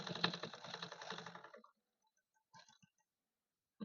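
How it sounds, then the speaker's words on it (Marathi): A sewing machine stitches fabric for a katori blouse piece in a steady fast rattle for about a second and a half, then stops, followed by a few soft handling clicks. "आता मी याच्यावरून सनी शिलाई करून घेत आहे"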